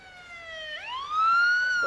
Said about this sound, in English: Look, the ambulance is here.